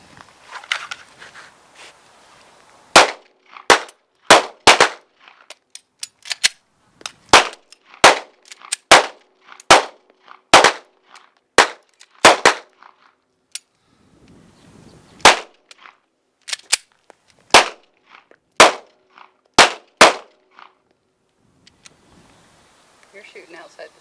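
Guardian 6 defensive pistol fired on a range during training drills: many sharp, loud shots in irregular strings with short gaps between groups, brief voices and movement noises in the pauses.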